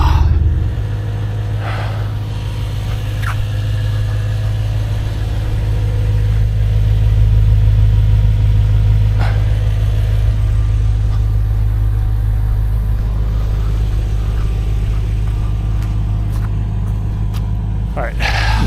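A BMW M2 engine hums at a low, steady idle as the car creeps into a parking spot, with a continuous close rumble throughout and a few faint clicks and knocks on top.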